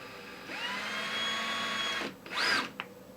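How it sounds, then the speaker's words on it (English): A 1/16 inch drill bit bores through a plastic mounting plate for a pneumatic frame, a steady close whine running about two seconds before a brief louder burst as the bit breaks through. "So you'll go through with the 1/16 of an inch drill bit first."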